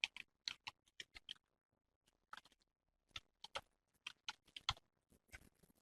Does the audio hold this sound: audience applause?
no